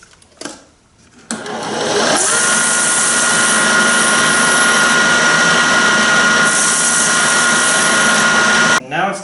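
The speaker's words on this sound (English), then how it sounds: "I'll just clean up any burrs on the edge here on my belt sander" A belt sander deburrs the freshly cut end of a 3/16-inch brass rod, a loud, steady grinding whir that starts after a brief quiet moment and runs almost nine seconds before stopping.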